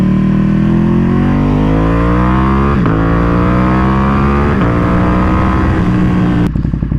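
A Ducati Panigale V2 on custom magnesium wheels accelerates hard, its engine note rising steadily through gears with brief dips at each shift, loud and close with wind rush, no voices.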